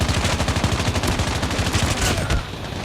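Rapid automatic gunfire in a shooter video game, loud and close, a steady burst of evenly spaced shots that cuts off near the end, with no talk over it.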